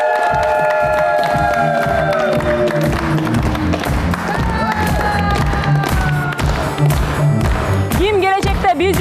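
A studio audience claps and cheers warmly to welcome a family onto a television talk show, dense sustained applause with rhythmic thumping and a few whistles.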